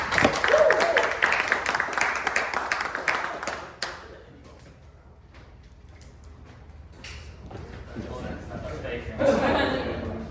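Crowd applause and clapping greet a DJ about to give a talk on opening DJ sets at a club event, loud and dense at first, fading to a lull, then swelling again near the end.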